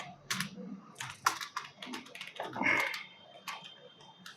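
Intermittent bursts of clicking keys as Java code is typed on a computer keyboard, quiet and close, in short uneven runs with brief pauses.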